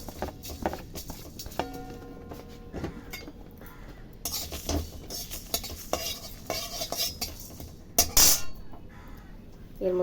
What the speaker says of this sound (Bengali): আমি এবার শুকনো খোলায় ভেজে নেব গুঁড়ো মশলা করার জন্য মশলাটাকে